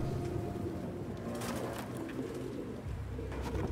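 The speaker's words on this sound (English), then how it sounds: "Your place is covered in pigeons." Pigeons coo in a cluttered room inside a cinematic video game, soft murmuring calls over a dense ambient background with no speech.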